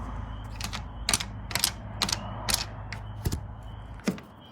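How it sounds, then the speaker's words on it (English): An RV awning arm is pulled down and its knob tightened, giving a string of sharp, close mechanical clicks and creaks at irregular intervals over a quiet background. "you're gonna reach up here with your hand and just pull straight down. And then this knob you have to tighten."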